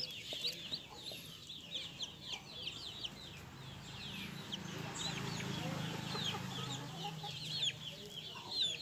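About forty free-range hens cluck and chatter around their nesting boxes in a garden coop, a busy scatter of calls close by, with a low voice murmuring underneath at times.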